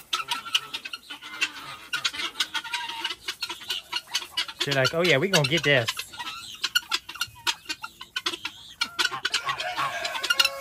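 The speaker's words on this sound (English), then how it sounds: "Guinea birds, there." Guinea fowl on a farm animal sanctuary calling in a rapid, rhythmic run of harsh chattering cackles, close and busy, with a person talking briefly over them.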